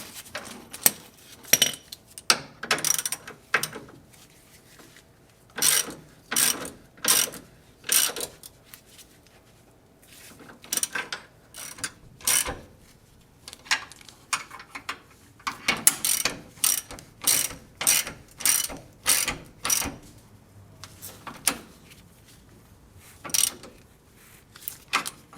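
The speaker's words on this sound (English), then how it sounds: "go ahead and torque them down" Ratchet wrench tightening sway bar bracket bolts on a 1980-1996 Ford Bronco, loud close clicking bursts in repeated runs separated by short pauses, no talking.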